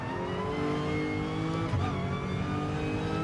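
A Lexus RC-F GT3 race car engine in Gran Turismo Sport, revving steadily and loud with rich harmonic whine, holding a sustained high note with a brief shift-like dip midway, no talking.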